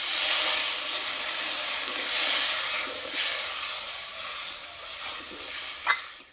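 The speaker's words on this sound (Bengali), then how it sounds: "মশলা কষানো হয়ে গেছে, এবার জল দিয়ে দেবো।" Water poured into a pan of sizzling fried spice masala for a banana flower and egg curry, bringing a loud, steady hiss and sizzle that swells, fades slightly and ends with a brief sharp clink near the end.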